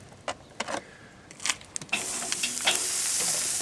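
BBQ ribs hit a hot grill and build into a steady, close sizzle that takes over after a few scattered taps and clatters of handling.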